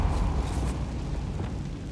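Spell blasts from Bombarda and Confringo in the Hogwarts Legacy video game, a heavy rumbling explosion with a burst of dense low boom early on that then decays into continuous crackling debris noise.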